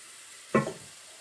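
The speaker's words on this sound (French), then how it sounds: "Donc, je fais un peu revenir comme ça mes oignons" Onions hit a hot pan for a pea tagine, giving a brief burst of sizzling that quickly settles back into a quiet, steady background hiss.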